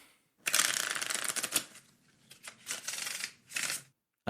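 Playing cards, likely Magic: The Gathering Commander cards, are riffle-shuffled close up in a few quick bursts of rapid flapping clicks separated by short pauses.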